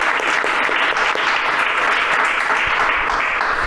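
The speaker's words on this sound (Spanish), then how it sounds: "Aplausos." Steady audience applause at a casual Spanish-speaking gathering of Bitcoin enthusiasts, dense and sustained throughout with no break, close and fairly loud.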